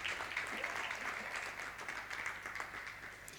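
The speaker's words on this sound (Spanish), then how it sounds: "Vamos a darle un fuerte aplauso." Faint, steady applause from the audience at an architecture networking event at Porcelanosa in Huelva, a continuous even patter of many hands heard from some distance.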